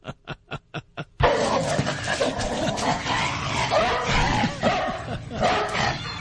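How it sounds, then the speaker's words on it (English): A radio-show sound effect of dogs: a few short yips open it, then a loud, dense chorus of howling, whimpering and barking dogs carries on continuously. "Do we have any howling dogs or gunshots?"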